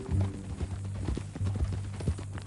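Horse hooves clip-clop at an even walking pace in Red Dead Redemption 2, close and moderately quiet, with faint low ambience beneath.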